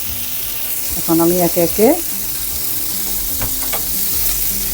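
Turkey gola kebabs fry in oil with a loud, constant sizzle, while a voice speaks briefly over it.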